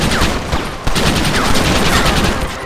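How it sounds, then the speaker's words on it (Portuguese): Rapid volleys of gunshots in a Red Dead Redemption duck-shooting gallery, loud and close, a dense burst of overlapping shots with no pause for talk. "Só galeria de tiro. Atiro nos patos."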